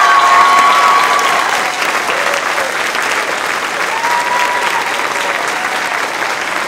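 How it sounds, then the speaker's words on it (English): Loud, sustained applause from a choral concert audience honouring two music teachers, a thick even wash of many hands clapping close by, easing slightly after the first second. "Let's give them a round of applause."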